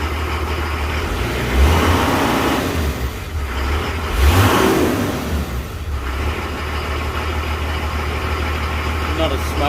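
A Nissan Patrol's SD33 diesel engine runs after a cold start following a long sit, giving a steady, close, loud rumble that swells briefly around two and four and a half seconds before settling back.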